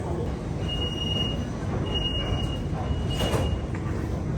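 A crowded rush-hour metro train in Malaysia rumbles at the platform, with a steady low roar, thin high squeals from the wheels and brief metallic clatter, all fairly close.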